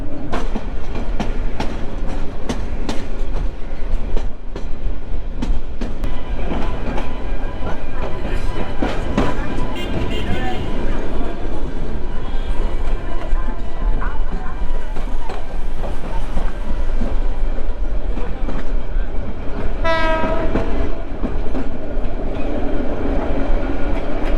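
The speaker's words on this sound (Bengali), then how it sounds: "তো যথারীতি ট্রেনটা ছেড়ে দিয়েছে।" Chittagong University shuttle train running on its rails, a steady loud rumble with rhythmic clickety-clack and creaking carriages throughout, and a brief horn-like tone near the end; voices talk faintly amid the noise.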